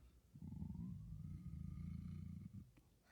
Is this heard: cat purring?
yes